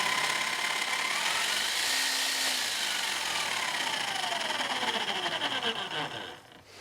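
A repaired electric chisel unit from a scrapyard runs continuously with a motor whine and a rough buzzing rattle, its pitch sliding down and back as the speed shifts, then winding down at the end.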